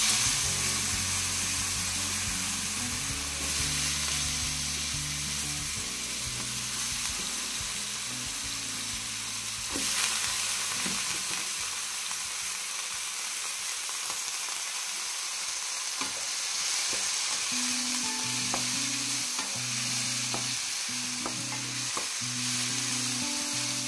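Cut brinjal pieces frying in a pan for a brinjal and dry prawn curry, giving a steady, close sizzle with occasional stirring scrapes, continuous throughout with background music underneath.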